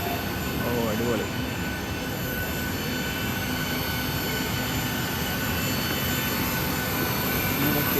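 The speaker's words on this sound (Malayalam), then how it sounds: "ഇതാണ് ഫ്ലൈറ്റ്." A Ryanair airplane's jet engine hums and whines steadily on the airport apron at Riga, a continuous moderate drone with no breaks.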